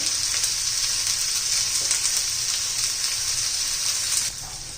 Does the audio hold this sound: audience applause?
no